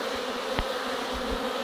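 Honey bees hum steadily around an open hive while a beekeeper searches for the queen, a low continuous drone with one brief nearby knock partway through.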